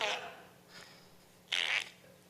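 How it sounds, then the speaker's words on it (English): A smartphone farting app plays two short, hissy fart noises, one at the start and another a little later, both faint with quiet gaps around them. "is a farting app."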